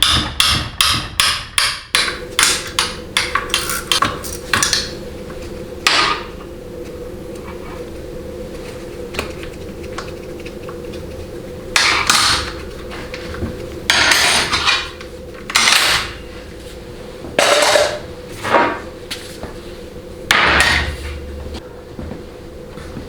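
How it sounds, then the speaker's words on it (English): Metal tools strike and work at the extension housing bolts of a 4L80E transmission, starting with a quick run of ringing hammer blows, then scattered clanks and wrench ratchets over a steady background hum. "I'm just going to use a wrench to loosen the bolts"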